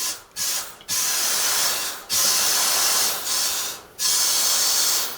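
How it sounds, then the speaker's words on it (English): Air hisses from a loosened fuel fitting on an Isuzu 4BD1T diesel engine in a Hitachi EX120 excavator, coming in several sharp bursts separated by brief gaps, close and fairly loud. "I hear air coming out."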